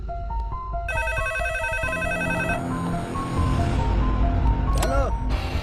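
An electronic phone ringtone plays a bright repeating melodic pattern, with a rising warble near the end, over background noise and some voices.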